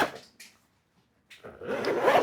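The stiff zipper of a Chrome Industries Kadet WP sling bag is pulled open in two rough, rasping strokes separated by a short pause, close and fairly quiet.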